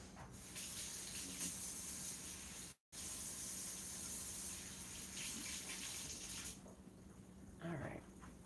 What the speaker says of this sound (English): I have to wash my hand